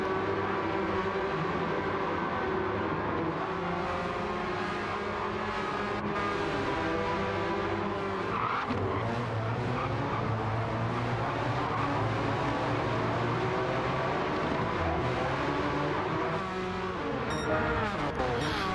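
Porsche Cup race cars in a Laguna Seca racing video game roar down through the corkscrew, with loud, continuous engine drone and shifting revs, overlapping cars and brief tire squeal.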